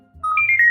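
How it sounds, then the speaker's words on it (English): A phone notification tone sounds during a children's skit, a short rising electronic melody that rings out clearly and loudly over a low background hum. "Another notification?"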